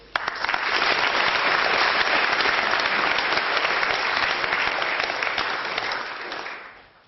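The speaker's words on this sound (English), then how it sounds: "Please give him a warm round of applause." Sustained applause from a large debate audience, steady and loud for several seconds, then fading out at the end.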